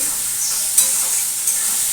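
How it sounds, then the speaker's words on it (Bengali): Steady, loud sizzling of sliced bitter gourd half-frying in a pan, with a couple of faint stirring clinks. "এখন দিয়ে দিচ্ছি উচ্ছে গুলো আমি একটু হাফ ভাজা করে নেবো"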